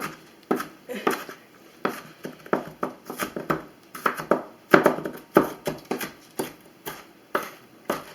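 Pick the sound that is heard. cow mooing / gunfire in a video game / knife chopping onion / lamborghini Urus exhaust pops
knife chopping onion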